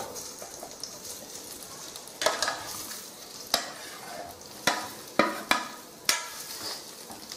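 Boiled potatoes fry in a spoonful of hot oil with a pinch of asafoetida, a steady close sizzle broken by several sharp scraping stirs of a spoon against the pan.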